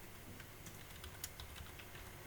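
Quick, irregular clicking of a computer keyboard as a name is typed in, moderately close, with a few sharper key strikes over a low steady hum.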